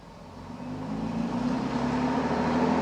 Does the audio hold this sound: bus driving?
yes